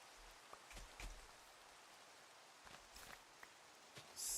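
Rain in a Minecraft world near a cherry grove house: soft, faint hiss of falling rain with a scattering of light ticking drops and a few footstep-like taps, no voices.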